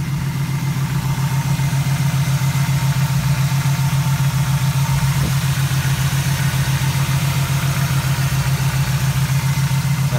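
A 1967 Chevrolet Camaro with a 350 engine idling, a steady, loud, low rumble with an even pulsing rhythm that holds throughout.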